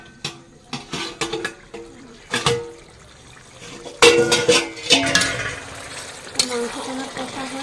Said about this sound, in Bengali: এবার আমি মাংসটাকে একটু নাড়িয়ে নেব।